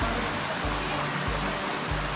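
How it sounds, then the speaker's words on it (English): Main falls at Nangka Waterfall, a steady broadband rush of falling water filling the background, constant and moderately loud with no break, a few low thumps and knocks underneath. "So that's the main thing right there, main waterfall."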